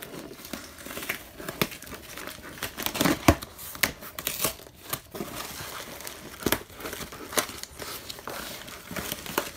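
A comic book mystery box package is opened carefully, with close, irregular crinkling and rustling of packaging broken by sharper tearing and snapping bursts, and no speech.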